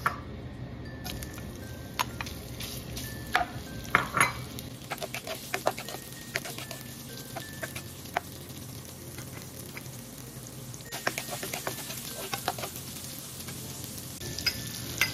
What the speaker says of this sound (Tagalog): Bigyan na natin ng mantika. Lagyan natin yung hot dogs.